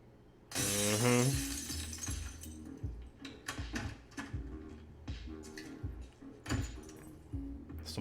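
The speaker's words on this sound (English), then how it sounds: "She's gonna break the glass." Glass shatters loudly in a single crash from a TV drama scene, followed by scattered clinks and thuds of falling pieces and movement.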